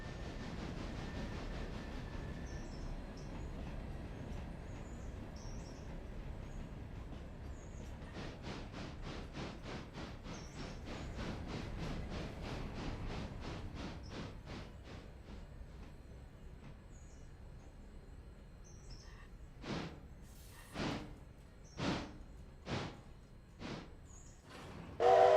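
Trains shunting in the Realistic Railroader railway game, a low continuous rumble with rhythmic clicking of wheels over rail joints, then a few spaced louder clanks toward the end.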